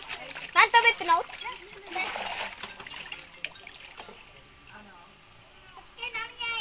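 Water splashes in a swimming pool in a few quick bursts, then quieter sloshing follows, under and between children's voices talking nearby.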